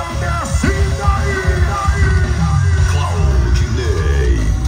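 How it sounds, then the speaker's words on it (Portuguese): A rodeo crowd yells and cheers loudly during a bull riding semifinal in Cassilândia, MS, with rising whoops and shouts layered over a constant roar. An announcer's voice carries over the noise. "O povo vai à loucura."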